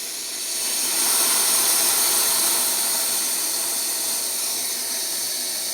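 Steady, close hiss of a Coleman Exponent 550b single-burner stove's flame, a broad roaring rush that swells in the first second and then holds even throughout, with no voices over it.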